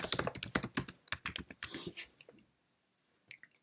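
A folder name is typed on a computer keyboard, with rapid close key clicks in a busy burst, tapering off, then silence and a final pair of taps.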